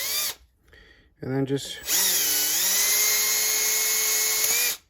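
Low-speed drill spinning a cotton-tipped swab loaded with lapping compound, used on a generator carburetor rebuild; after a brief spoken phrase and a quick burst, the drill whines steadily and close for about three seconds, then cuts off.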